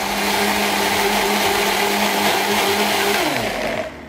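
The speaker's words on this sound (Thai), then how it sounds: "แค่นี้เลยแล้วเราก็จัดการปั่นได้เลยค่ะ" A blender runs continuously on a strawberry milkshake with ice and milk, giving a loud steady whir that winds down near the end as the motor slows.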